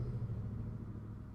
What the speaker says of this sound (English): that wasn't a motorcycle, that was just a loud car